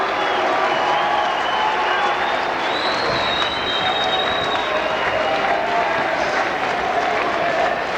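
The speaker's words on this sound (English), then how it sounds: "Very good sized crowd here at the Mennen Arena." Steady wash of crowd applause and cheering fills a hockey arena at the 1987 New Jersey high school state championship, Montclair against Delbarton at Mennen Arena, dense and continuous with voices mixed into the roar.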